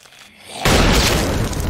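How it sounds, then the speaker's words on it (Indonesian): A single loud, booming gunshot erupts inside a tank after a quiet moment and rings on for about a second before cutting off abruptly. "Suara tembakan di dalam tank menghasilkan dengung yang sangat kuat"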